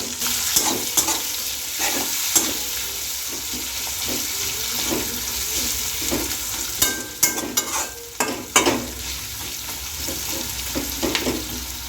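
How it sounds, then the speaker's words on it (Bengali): Whole spices (cumin, bay leaf, cinnamon, cloves and cardamom) stirred and frying in a pan, with a steady close sizzle under repeated scraping stirs and a few sharper clinks, no talk. "এটাকে ভালো করে নেড়ে চেড়ে একটু ভেজে নেব"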